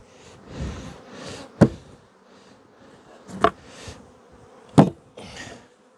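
Honey bees buzz around an opened hive box during a honey flow inspection, a close, steady drone broken by three sharp knocks, probably the lid or frames, with no talk.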